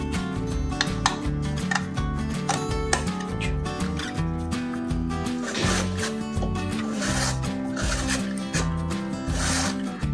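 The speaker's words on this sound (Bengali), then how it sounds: "আমি আলুটা গ্রেট করার জন্য এই বড় গ্রেটারটা নিয়েছি" Three large potatoes are scraped down a big grater in steady, repeated rasping strokes. The rough scratching sounds close and continuous, over a constant low background hum.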